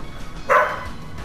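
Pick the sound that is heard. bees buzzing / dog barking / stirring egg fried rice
dog barking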